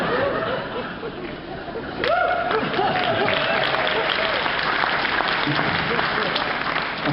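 An audience bursts into applause partway through, sustained clapping with scattered chuckles and chatter mixed in, after a stretch of murmuring voices.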